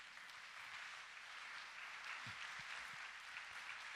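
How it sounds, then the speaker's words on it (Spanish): A church congregation claps in a steady, even wash of applause, faint and distant, with a few low thumps near the end. "denle un aplauso fuerte al Señor"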